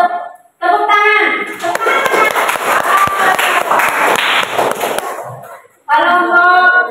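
Students in a classroom group clap together in a lively burst of sharp, overlapping hand claps lasting several seconds, with a voice talking just before and just after.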